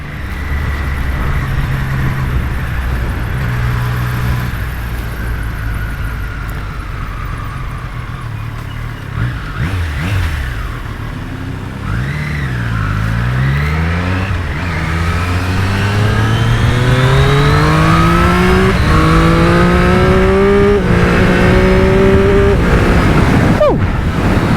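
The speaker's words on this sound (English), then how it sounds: "I can go quick shift 5th gear, quick shift at really low RPMs." Triumph Street Triple RS motorcycle accelerating hard through gears with quick shifts, engine pitch climbing and dropping at each change, loud and close with heavy wind rush.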